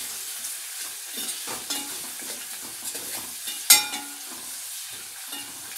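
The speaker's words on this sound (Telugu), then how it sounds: "వెల్లుల్లి కూడా వేసుకుంటున్నాను. ఇది ఒక 2 మినిట్స్ వేగనివ్వాలి." Garlic fries in a pan for pachi pulusu, giving a soft, steady sizzle with intermittent stirring scrapes and one sharp clink of a utensil partway through, close and fairly quiet.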